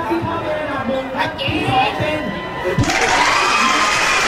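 An audience claps and cheers under excited voices, the noise swelling into a dense, loud wash of applause and shouting partway through.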